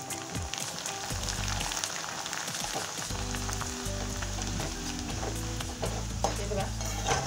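Corn poha flakes fry in hot oil in a kadhai for Lamboti-style chivda, a steady bubbling sizzle with occasional scrapes and stirring clinks of a metal spoon against the pan, heard close.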